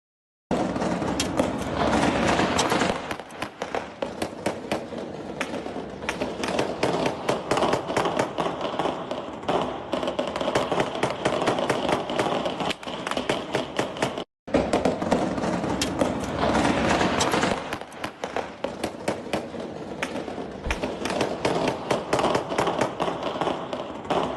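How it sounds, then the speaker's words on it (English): Rapid, continuous crackling bursts of distant gunfire pop and rattle without letup, briefly pausing once before resuming just as dense. "The hills are alive with the sound of gunfire."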